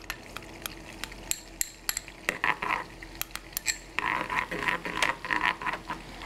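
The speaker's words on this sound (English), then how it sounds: "we want to keep stirring this as well to make sure that nothing is sticking to the pan" Sweet potato and chorizo being stirred in a frying pan: a utensil clinks and scrapes against the pan in irregular bursts over a soft, continuous sizzle, close and alone.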